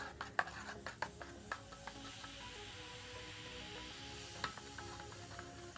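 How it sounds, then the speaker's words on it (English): Homemade Nuka Cola ingredients with caramel settled at the bottom get stirred in a container: soft scraping and swishing with a few sharp spoon clinks against the sides, close and steady with no talking. "Mix all that in there."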